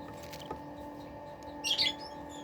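Newly hatched Serama and Buff Brahma chicks, a few days to ten days old, kept in a brooder, let out a brief burst of high peeping over a steady low mechanical hum.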